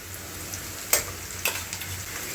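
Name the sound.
ginger garlic paste frying in pan with onions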